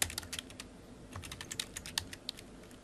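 Fingers patter quickly on a computer keyboard, a soft, close run of uneven clicks and keystrokes with no talking.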